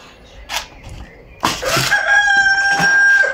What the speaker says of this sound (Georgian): ამ ქათმებზე მკითხეს უყივიანო და კი, ძირითადად ყივიან